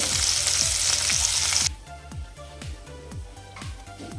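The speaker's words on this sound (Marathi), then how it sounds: "चिकनचे पीसेस दोन्ही साईडने मस्त फ्राय करून झालेत" Chicken pieces fry in a pan for a restaurant-style chicken changezi, with a loud broadband sizzle that drops sharply partway through, then a softer steady crackle with regular scraping stirs.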